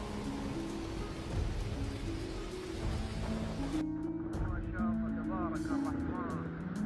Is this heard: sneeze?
no